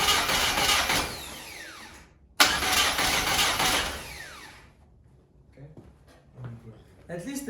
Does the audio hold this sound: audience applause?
no